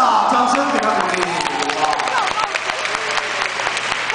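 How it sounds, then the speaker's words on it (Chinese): A crowd at a guided theatre talk claps in a loud burst that gradually thins, with a voice talking over the start and scattered individual claps continuing afterward. "掌声给他鼓励"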